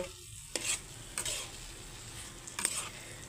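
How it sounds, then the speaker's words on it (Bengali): Fried soybeans are stirred in a sizzling pan, with three distinct scraping strokes of the spoon over a quiet, steady frying hiss. "এখন এই সোয়াবিনগুলো দিয়েও আমি 2 মিনিট নাড়াচাড়া করে নেব।"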